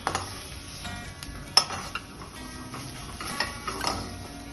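Onion, ginger and garlic stirred in a pan for a dal, with a spoon scraping and clinking against metal in irregular strokes over a faint sizzle, close and moderately quiet.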